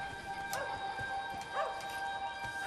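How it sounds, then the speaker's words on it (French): A dog barks a few times in the distance within Wolfenstein The New Order, sharp yips over a steady ambient hum with high tonal lines. "Un chien."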